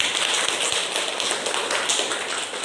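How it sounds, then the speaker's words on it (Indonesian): Dense, steady applause fills a classroom as students clap for their classmates during a religious studies lesson, a continuous wash of many hands close by with no talking. "Tepuk tangan untuk teman-teman."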